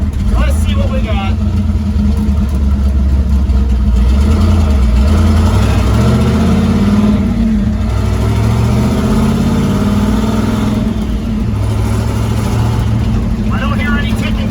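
An old car engine runs with a steady mechanical drone that rises and falls in pitch as it revs, loud and close, while people talk over it.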